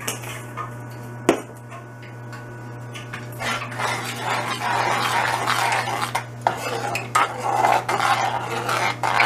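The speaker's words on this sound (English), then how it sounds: "I'm just going to stir that up" Spices being stirred into a wildberry dipping sauce, heard as a steady close scraping and clinking of a utensil against a pan or bowl that grows busier and continues for several seconds over a low hum.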